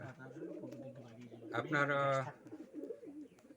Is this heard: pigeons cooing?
yes